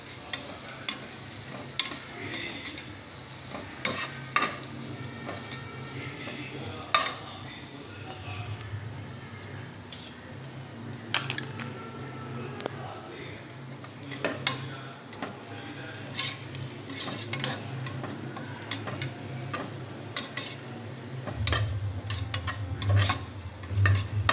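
Ginger garlic paste being sautéed in a pan for chicken biryani, with a steady soft sizzle under repeated scraping and stirring of a spoon against the pan, close and continuous.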